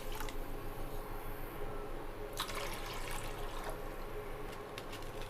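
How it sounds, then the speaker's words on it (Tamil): Half a litre of water poured into a pot holding 300 grams of sugar for Agra petha, a pumpkin sweet: a faint, soft trickling and splashing with a couple of brief louder gushes, quiet and close. "அதில் 1/2 லிட்டர் தண்ணி சேர்த்துக்கிறேன்"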